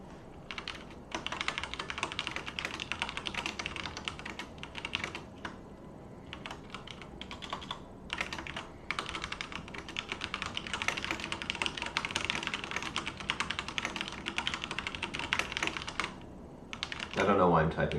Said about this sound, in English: I don't know why I'm typing this out.